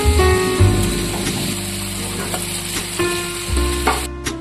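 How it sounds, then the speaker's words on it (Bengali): Fish fries in a pan in a home kitchen while chicken cooks alongside, producing a continuous crackling sizzle with a few stirring clatters over steady tonal sounds in the background. "আর এদিকে আমার মাছ ভাজা হচ্ছে"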